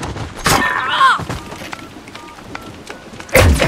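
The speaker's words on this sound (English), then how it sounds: "Planting Alpha." Sounds of planting a bomb at site Alpha during a Call of Duty: Modern Warfare Search and Destroy match, with a few sharp thuds and cracks and short beeping tones amid quieter game noise.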